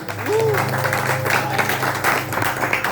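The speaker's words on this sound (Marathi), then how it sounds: "एकदा जरा जोरदार टाळ्या होत्या सगळ्यांच्या" An audience at a Buddha Purnima village gathering in Konkan breaks into sustained applause, a dense field of clapping, while a voice briefly speaks at the start over a low hum.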